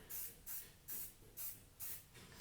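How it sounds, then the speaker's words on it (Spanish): An aerosol can sprays paint onto a stencil in five evenly spaced short bursts, each a bright close hiss separated by brief gaps, with no voices. "Para la reproducción de la plantilla o el stencil, en este caso, vamos a utilizar el aerosol."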